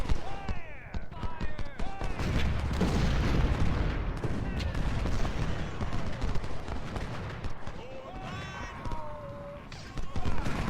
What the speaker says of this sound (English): let's focus our smoothbore fire on Paul